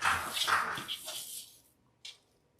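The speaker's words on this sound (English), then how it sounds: "My dog was trying to get inside my studio." A dog barking and whimpering to get into a studio, a cluster of yips and whines close to the microphone, then a short sharp yelp after a pause, with no talk over it.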